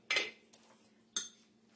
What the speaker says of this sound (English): I'm going to dump some in a bowl is what I'm going to do.